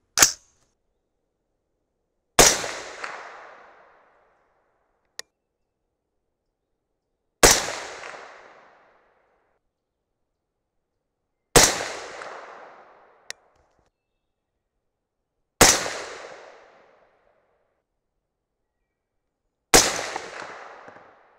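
Aero Precision M5E1 AR-10 rifle firing a group of shots with handloads of Reloader 15 powder at a range; five sharp, loud cracks spaced about four seconds apart, each trailing off in a short echo, with small clicks between.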